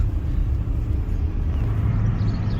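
Car driving on the way to a yard sale, a loud steady low rumble of road and engine noise heard from inside the cabin, continuous without breaks.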